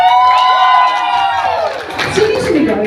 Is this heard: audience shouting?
yes